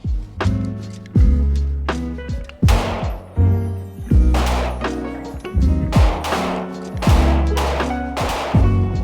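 A handgun fires at a shooting range from 5 yards, with a string of loud, sharp shots at irregular intervals, each followed by a ringing decay and echo off the range surroundings. No talking.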